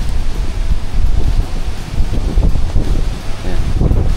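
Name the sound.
strong typhoon wind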